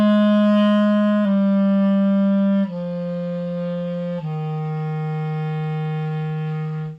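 A clarinet plays a slurred descending waterfall exercise, four sustained notes stepping downward without breaks, clear and close with no talk.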